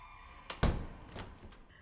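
A door pushed shut in a Hindi-dubbed horror film scene, a single solid thunk with a short rattle after it, close and fairly quiet, with no talking.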